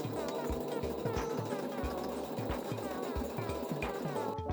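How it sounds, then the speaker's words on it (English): Sewing machine straight-stitching fabric loops down along the edge of a garment made from upcycled curtains, a fast steady mechanical chatter with repeated low thumps running throughout. "Sandwich your loops in there and straight stitch them down right at the edge."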